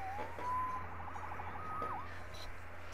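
A police siren sounds in the Spectacular Spider-Man video game, a steady and then wavering wail at moderate distance over a low background hum, with no speech.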